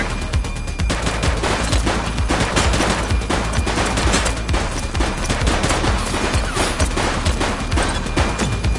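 Dense, loud gunfire from a police shootout in the video game The Precinct, with rapid overlapping automatic bursts and volleys running continuously for the whole stretch.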